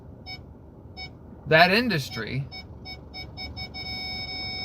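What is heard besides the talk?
car parking sensor beeping while reversing into a parking spot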